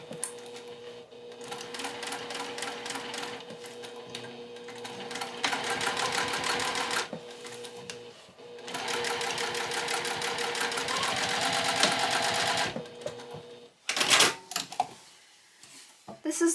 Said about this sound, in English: I will start at one end, back stitch, and go all the way down to the other, sewing in a straight line, keeping that same seam allowance.